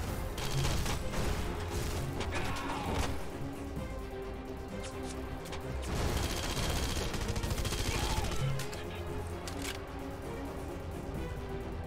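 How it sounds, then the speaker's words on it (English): Enemy gunfire in the video game Red Faction Guerrilla rattles continuously from a distance, dense overlapping pops and bursts with occasional heavier thumps, forming a busy, steady battle din throughout. "They're shooting from so far away."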